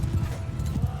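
Horse hooves clip-clopping in a Mount & Blade II Bannerlord battle, a quick run of close, muffled thuds under a voice.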